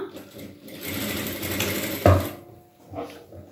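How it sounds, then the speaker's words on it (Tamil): A sewing machine stitching a round neck blouse, a soft whirring run of stitches with a sharp clunk partway through, then a brief quieter burst. "வச்சு ஒரு 1/4 இன்ச்சில் நம்ம சுற்றி கரெக்டாக ஸ்டிச் பண்ணிக்கலாம்."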